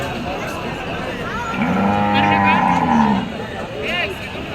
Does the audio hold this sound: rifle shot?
no